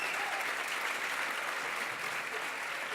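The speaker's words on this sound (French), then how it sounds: "qui va être applaudi par tous les étudiants" Students applaud at a VR and AR awards ceremony, a dense and steady burst of clapping from a large crowd that holds at an even level throughout, with no voices rising above it.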